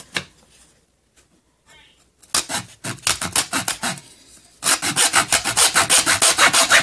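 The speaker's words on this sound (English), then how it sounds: "I just saw right through the stick, because it's pretty thin" A small handsaw cuts through a thin wooden stick, with quiet handling first, then a run of rhythmic rasping strokes that grows faster and louder toward the end, heard close up with no talking.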